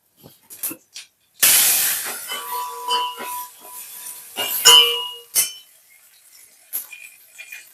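A sudden loud hiss and crackle of curry leaves dropped into hot tempering oil, sizzling then fading, with light metallic clinks of a utensil around it.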